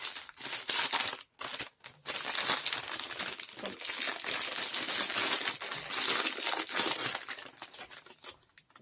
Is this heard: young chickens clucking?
no